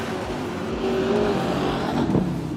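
Race cars at full throttle on a dirt speedway at the Carina Speedway season finale, engines droning loud and close with a rising roar as a car powers through, and a brief tire scrub near the end.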